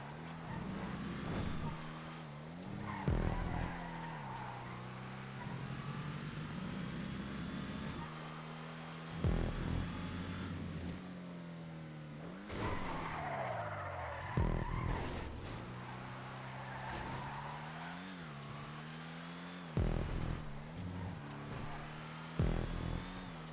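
Racing cars in a GTA Online street race, with engines droning and pitch sweeping up and down through gear shifts, plus sharp bursts of tire skids and impacts recurring across the lap.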